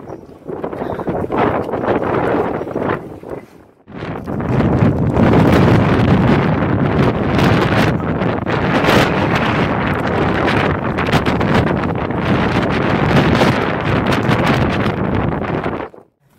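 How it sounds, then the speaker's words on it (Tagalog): Strong typhoon wind in Japan buffets the microphone in loud, continuous roaring gusts, with a brief lull near the start before the wind surges back and holds steady. "Grabe yung hangin, oh."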